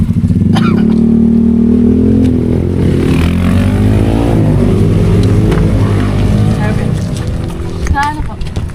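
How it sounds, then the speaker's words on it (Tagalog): A motorized tricycle engine drones and revs loudly up close on a street in Dingalan, Aurora, holding a steady throb throughout while voices talk over it. "Tricycle."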